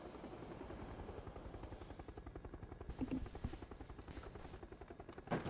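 A helicopter in a tactical shooter video game thumps overhead with steady rapid rotor chop, loud and continuous throughout, with a few sharper bursts layered on top.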